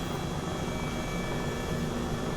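An Airbus H135 helicopter in flight in Microsoft Flight Simulator 2020 gives a steady, even rotor-and-turbine drone that fills the whole stretch, with no speech over it.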